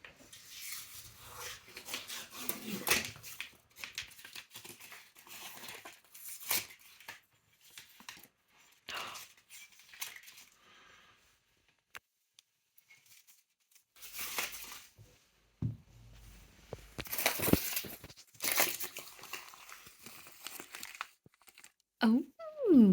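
Heat transfer paper being peeled off a mug pressed in a Cricut Mug Press, crinkling and rustling in bursts with quieter gaps, close and fairly soft, with a voice talking in places.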